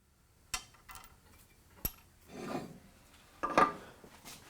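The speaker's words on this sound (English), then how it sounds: "little light sanding and fairing it in" Light, intermittent sanding strokes, soft rasping rubs with a few sharp taps between them, close by and quiet.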